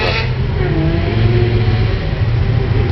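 A Lexus LFA pulls away from the start line at the Goodwood Festival of Speed hill climb, its engine revving hard and rising in pitch over steady crowd-level ambience.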